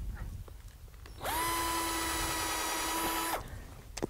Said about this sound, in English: So we're going to also drill a hole in it here